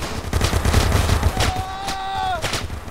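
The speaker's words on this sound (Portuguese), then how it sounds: "Estão atirando demais." Gunfire crackles in a GTA game with an Ant-Man mod, a dense run of quick shots that thins out, with a tonal game sound sliding through the middle.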